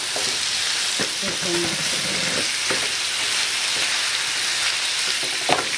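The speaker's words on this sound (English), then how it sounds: "Chicken is cooking" Chicken breast fries in a pan with a steady, broadband sizzle throughout, broken by a few brief scrapes or clacks of stirring, close and fairly loud, with a short spoken word briefly heard.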